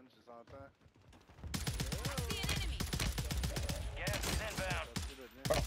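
Gunfire in the Warzone 3 video game on Rebirth Island, fast repeated shots crackling loudly through most of the clip with game voice lines and talk over it.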